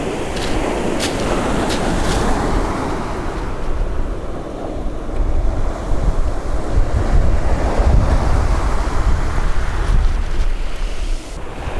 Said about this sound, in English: the English Channel, crashing onto the shores